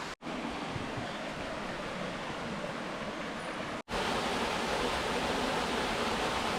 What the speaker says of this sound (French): La première cascade sur la rando.